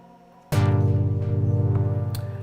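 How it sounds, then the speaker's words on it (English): A 16-step sequence on an Arturia KeyStep 37 starts abruptly and runs steadily, a repeating pattern of bright plucked synth notes over a sustained low tone, loud and close, no voices. "This is a 16-step sequence that I have just programmed in a step recording mode."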